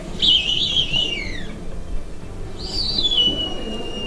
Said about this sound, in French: Le gypaète barbu.